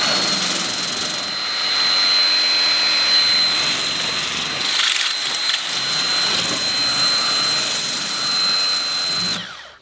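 Worx Hydroshot WG644 portable power cleaner on twin 20 volt batteries running a spinning accessory, a loud steady high whine and spray roar throughout, cutting off abruptly at the end.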